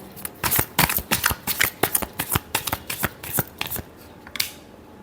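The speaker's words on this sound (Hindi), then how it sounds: "Last shuffle." Tarot cards are shuffled by hand for a final shuffle, making close, crisp riffling and flapping bursts in quick succession for about four seconds, then trailing off, with no voices.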